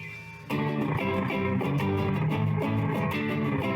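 Electric guitar playing through a TC Electronic Echobrain analog delay pedal switched back on, with steady plucked notes and a soft trail of repeats behind them, alone and moderately loud after a quiet start.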